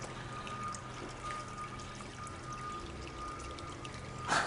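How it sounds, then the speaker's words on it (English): Sparge water trickles and pours over the grain bed in a Braumeister 20L all-grain homebrew system, a faint steady splashing flow with a brief louder splash near the end. "So it'll just help spread the sparge water across the top."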